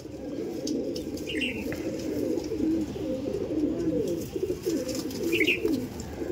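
Owl face Madras pigeons coo in a steady low murmur close by, a continuous throaty rolling that runs unbroken throughout, with a couple of faint higher chirps.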